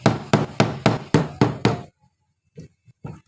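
Six sharp, evenly spaced knocks with a tool on a washing machine's motor dynamo, loud and close with a hard woody attack, followed by quieter scattered taps and a faint shuffle.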